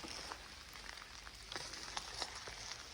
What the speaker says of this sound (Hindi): बारिश की बूंदों की भी आवाज़ आ रही है